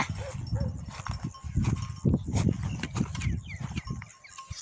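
Sheepdogs snarl and yelp in a scuffle nearby, three dogs against five large dogs, with growls and bursts of barking throughout, the noise easing off at the end.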